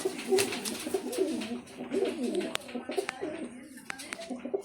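A female Kamandali pigeon coos in repeated low throaty phrases nearby, with sharp clicks and a voice talking faintly in the background.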